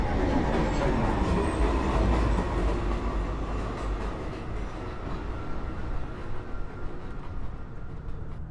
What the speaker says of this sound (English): Downtown. Express 2 train. Approaching the station.